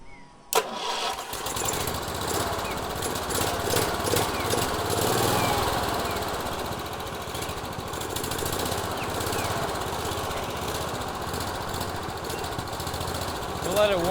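A race mower engine, built from a lawn mower with its governor removed, catches with a sharp start, then runs in a rough, steady, loud chug at idle for the rest of the time.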